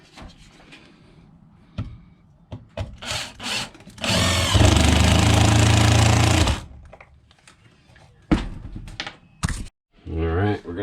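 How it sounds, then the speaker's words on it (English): Power drill driving screws into a tin shed, giving a few short bursts and then one long loud whining run of a couple of seconds, with someone talking in between. "Let me run these screws in."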